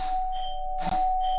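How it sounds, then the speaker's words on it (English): A doorbell chimes indoors in a guitar repair workshop, two clear electronic tones sounding in succession with a steady sustained ring, fairly loud and alone with no talk. "And that's my doorbell."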